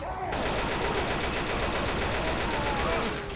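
Sustained rapid gunfire from a Left 4 Dead 2 co-op match, dense automatic shots rattling continuously and loudly for the whole stretch, with no pauses and no voices over it.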